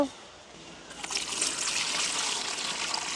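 Water pours and splashes steadily, like a running tap over beetroot being rinsed in a bowl, close and continuous after a quiet start.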